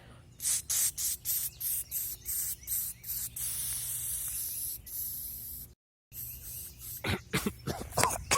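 Little Viper runner's pepper spray with a 3-foot range fired in a series of short hissing bursts, close and loud, followed by a steadier spray and more sharp bursts toward the end.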